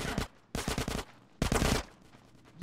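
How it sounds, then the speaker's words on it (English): Video game gunfire in GTA San Andreas comes in three loud bursts of rapid automatic shots with quieter background game sound between them. "Get some suppressing fire in there!"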